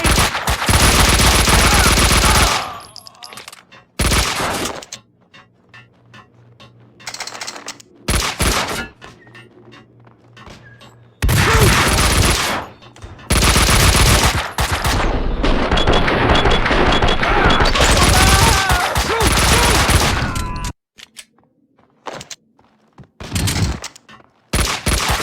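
Max Payne 2 gunfights erupt in loud, close bursts of rapid automatic fire and single shots, separated by quieter stretches holding faint game sounds.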